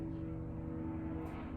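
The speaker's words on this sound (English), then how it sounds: "there's a helicopter or something outside." A helicopter or similar aircraft drones outside, a low, steady engine hum with tonal layers, distant and muffled through walls for a brief moment.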